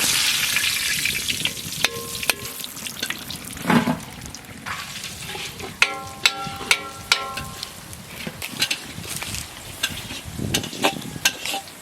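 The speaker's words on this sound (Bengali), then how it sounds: "আমরা বেগুনটাকে ভেজে নেব" Brinjal frying in leftover fish oil from rohu posto, a loud continuous crackling sizzle with scraping stirs and sharp clinks throughout, no voices.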